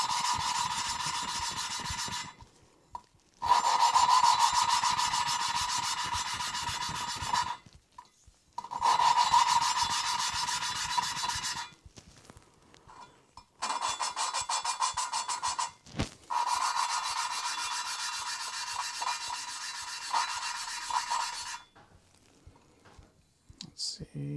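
Valves are lapped on a Honda K20/24 cylinder head, making bursts of gritty rasping and rubbing strokes several seconds long, separated by short silences, close and moderately loud.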